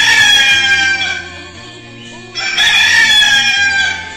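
A rooster crowing sound effect, played during a morning radio program, gives two long, loud, close crows one after the other, with a brief dip between them.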